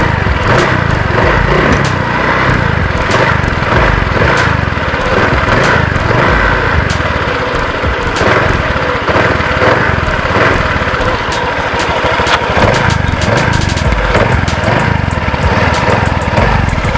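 Honda Click 150i scooter engine fitted with a Ryo and MJ performance air filter, revving loud and close throughout, its buzzing drone rising and falling with the throttle and no talk over it.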